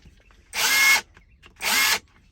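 A Kimo brushless impact wrench on a 2 amp-hour battery pack runs in two short bursts of whirring, each about half a second, close and loud with a brief quiet gap between them.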